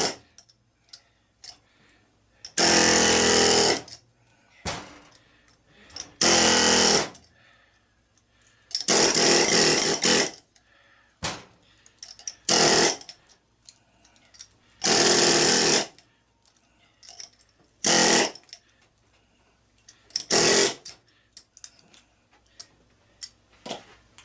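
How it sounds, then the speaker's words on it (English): An air chisel cutting copper windings out of scrap electric motors, hammering in loud rapid bursts of a second or two separated by quiet pauses, with short ticking taps in between. "Then with the air chisel."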